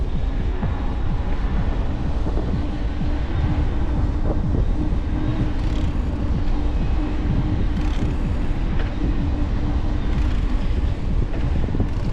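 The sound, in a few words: wind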